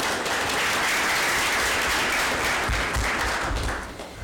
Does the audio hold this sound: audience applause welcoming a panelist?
yes